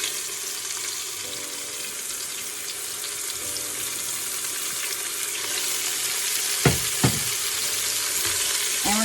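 Two large sweet onions and minced garlic sauté in a hot pan with a loud, steady sizzle and crackle throughout, broken near the end by a couple of sharp clinks of a utensil.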